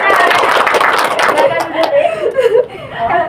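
A classroom of students claps for a classmate, with dense, quick applause mixed with chuckles and light laughter that thins out toward the end.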